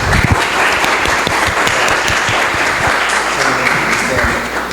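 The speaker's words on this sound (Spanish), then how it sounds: "Un aplauso, por favor." An audience applauds at the launch of the novel "El cuarto asesino", loud steady clapping throughout a short stretch, with some voices mixed in.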